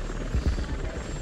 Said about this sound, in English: The frigate is deploying an MH-60 Romeo